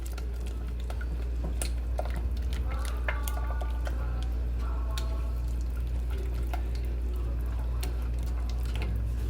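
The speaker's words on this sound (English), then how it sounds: "And I'm going to just take this and whisk this all together." A seasoning mixture with dried parsley is whisked together for smothered turkey wings: soft, irregular clicks, taps and wet stirring sounds, quiet against a steady low background hum.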